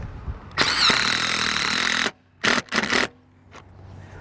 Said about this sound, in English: So we'll go ahead and start putting in our screws now.